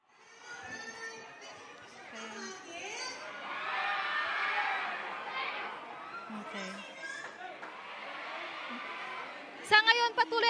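A crowd of Cebuano fans, many sounding young, cheers and screams for a celebrity love team, the high-pitched shrieks and chatter rising and falling continuously, louder toward the end.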